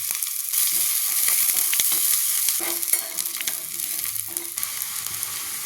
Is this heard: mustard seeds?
yes